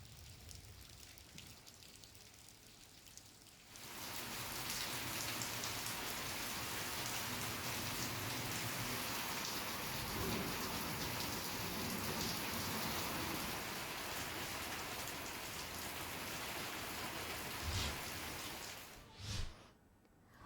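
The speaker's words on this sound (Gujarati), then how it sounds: "ક્યાંક ધીમી ધારે વરસાદ વરસી રહ્યો છે" Light rain falls steadily during unseasonal rain in Gujarat, a dense, even hiss that begins softly, swells to a constant patter after a few seconds and runs on with no voices.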